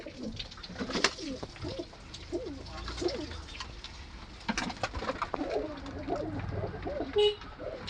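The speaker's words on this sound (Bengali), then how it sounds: "প্রত্যেকটা পায়রাই খুব ভালো, সাইজও ভালো" Saharanpuri pigeons coo repeatedly in soft, rolling phrases, fairly faint and close together, over a light background of rustles and occasional chirps.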